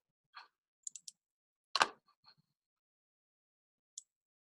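Sparse computer keyboard keystrokes tap out a short search entry, a few quiet, crisp clicks spaced irregularly with one firmer clack in the middle, in an otherwise silent room.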